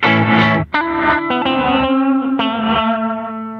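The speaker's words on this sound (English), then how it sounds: "You can really hear the reverse effect all the way at the very end of the extra knob." Guitar notes played through a Fender Reflecting Pool pedal with reverse reverb at its extreme setting swell in and ring out in long, smeared tails, a few struck chords followed by sustained, wavering tones.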